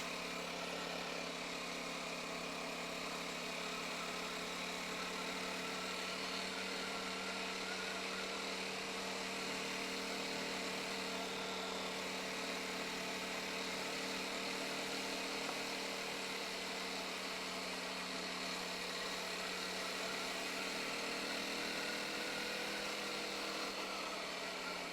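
A BSA Bantam motorcycle engine labours steadily up a very steep hill in third gear, a continuous close drone that holds an even pitch throughout with no talk over it.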